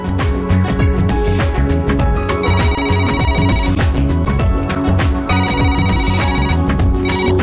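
A mobile phone ringtone plays loudly and continuously after a call is placed, a looping melodic tune with repeating tonal phrases and no voices over it.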